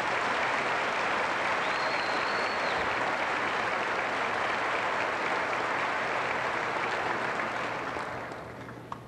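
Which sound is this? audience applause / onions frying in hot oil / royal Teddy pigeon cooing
audience applause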